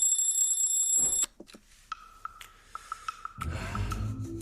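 A morning alarm clock rings loudly with a bright, sustained electronic tone for just over a second, then cuts off abruptly, leaving a few soft clicks and rustling movement.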